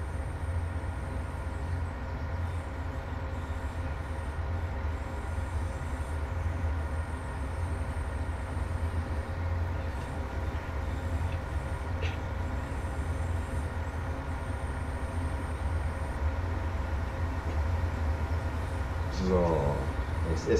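A BR 642 diesel railcar runs steadily in Train Sim World 4 on the Maintalbahn, a continuous low engine and rolling drone with a faint squeal near the end, while a voice talks over it.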